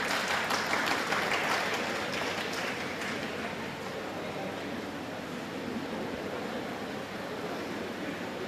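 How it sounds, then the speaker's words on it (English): Applause from an alumni meet audience fills the space: dense, continuous clapping, loudest at first and easing slightly but holding steady throughout, with faint crowd murmur beneath. "So big round of applause for our volunteer team."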